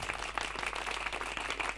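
Audience applause at a Kutchi and Gujarati comedy show, a brief, fairly faint patter of many hands clapping with a low hum underneath.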